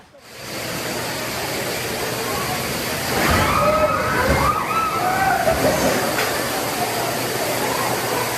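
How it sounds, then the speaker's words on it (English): Powerful ocean waves crashing against the Santa Cruz Wharf, a loud steady roar of surf with a heavier surge of sloshing water midway, with voices faintly mixed in. "Video recorded powerful waves destroying the Santa Cruz Wharf"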